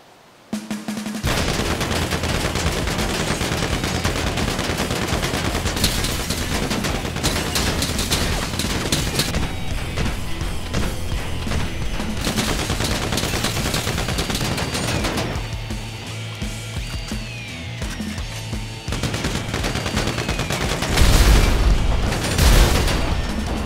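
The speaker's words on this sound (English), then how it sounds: "Now what I've got here is the M249 light machine gun" An M249 light machine gun fires in GTA V, long sustained bursts of rapid automatic gunfire, loud and close, with brief pauses and a heavy boom near the end.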